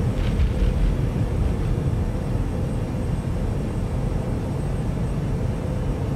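A Lufthansa Airbus A340-300 rolls down the runway for takeoff in Microsoft Flight Simulator, a loud, steady low engine roar and rumble that holds evenly throughout without speech.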